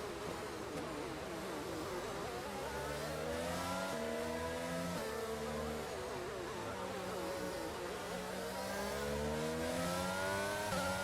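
F1 race cars in the F1 22 video game accelerating hard at a restart after a safety car, engines rising and shifting through gears in repeated climbing whines, several cars loud and close with no talk.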